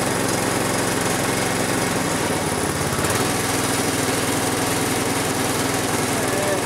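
A Harbor Freight Predator 212cc 6.5HP engine on a snowblower runs with the choke partly on, a close, steady, rough putter that keeps on without a break.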